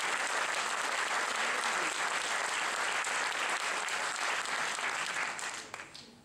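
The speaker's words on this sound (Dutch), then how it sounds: "Dus het applaus van u komt," Audience applause fills a hall at a school final exam concert, a dense, steady wash of clapping from many hands that holds strong for several seconds and then thins out and fades at the end.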